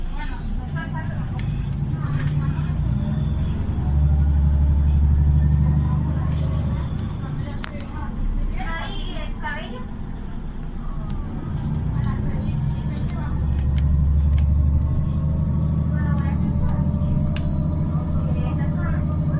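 Inside a city bus in Lloret de Mar, the engine drones and rumbles as it drives through town, rising and falling with acceleration, while someone talks over the steady interior noise.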